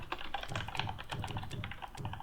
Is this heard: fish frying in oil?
no